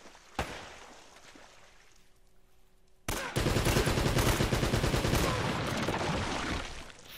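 Gunfire from the video game Uncharted: Drake's Fortune, a sharp shot early on followed after a quiet stretch by a loud, sustained burst of rapid shots that fills the rest of the clip.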